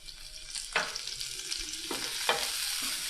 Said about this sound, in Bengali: দেখতে পাচ্ছেন বন্ধুগণ কি সুন্দর আমাদের এই ভাজিটা হচ্ছে।